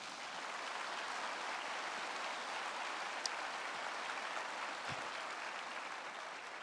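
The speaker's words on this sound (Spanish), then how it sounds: "Dale un aplauso a Jesús" Church congregation applauding during a sermon on prayer, a faint, distant, even patter of many hands clapping that holds steady without pause, with a couple of tiny isolated clicks.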